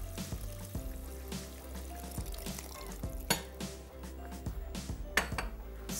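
Water pours into a pot holding half a kilo of rice over a high flame in a home kitchen, a steady trickling splash with occasional clinks of metal and a continuous low hum underneath.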